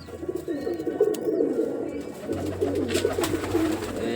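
Pigeons coo softly nearby in low, rolling, repeated calls, a steady murmuring flock with no voices over it.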